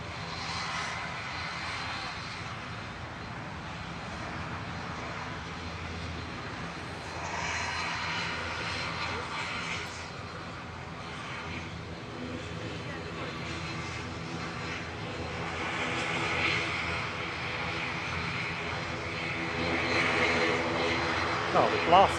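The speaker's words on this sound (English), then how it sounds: "Peabody is departing now to Guernsey with flight 671 for Aurigny" An Aurigny airliner departs Manchester Airport for Guernsey, its engine roar a sustained rumbling wash that builds toward the end, with people talking faintly underneath.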